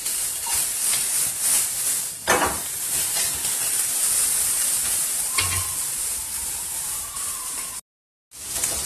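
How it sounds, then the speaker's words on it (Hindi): Carrots sautéing lightly in hot oil for a macaroni dish, a steady close sizzle and hiss with a couple of brief stirring clatters, no voices, and a short silent gap near the end. "हल्का से इनको फ्राई करना है, सौते करना है,"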